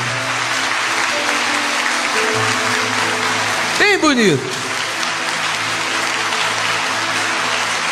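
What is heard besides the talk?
audience applause in church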